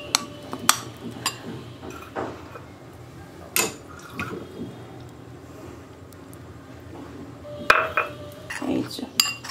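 Batter for fish Orly being stirred with a little water in a bowl: close, irregular clinks and scrapes of a utensil against the bowl, wet sloshing between them, and no talk.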